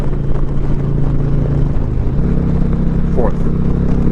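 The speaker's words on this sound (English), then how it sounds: "downshift into third" A 2021 Indian Challenger Limited motorcycle engine drones loud and close under wind noise, then its pitch steps up sharply as the rider downshifts into third.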